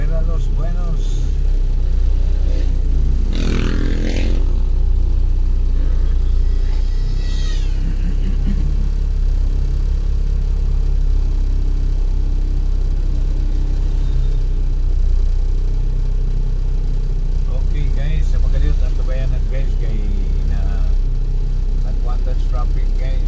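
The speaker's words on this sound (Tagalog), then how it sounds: "Traffic guys." Monday morning road traffic in Iligan City rumbles on continuously, with passing cars and engines revving now and then, while people talk over it throughout.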